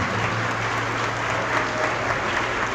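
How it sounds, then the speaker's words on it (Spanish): Applause from an audience at a Catholic–evangelical Bible debate, a steady, dense wash of clapping that holds at an even level throughout, with no voices over it. "Me honran sus aplausos, pero que sean para Dios"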